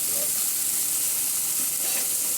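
Tomatoes stirred in a hot frying pan for a drumstick gravy, a steady close hiss of sizzling with soft scraping movements running throughout, no voices.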